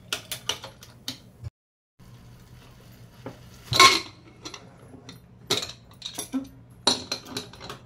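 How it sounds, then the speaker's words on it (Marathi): A kitchen pressure cooker holding brinjal, after one whistle, is opened and lifted off. Scattered close metallic clinks and clanks come with a brief louder burst midway, and there is no speech. "आपण आता हा कुकर काढत आहोत"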